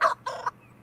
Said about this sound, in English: That's a kookaburra.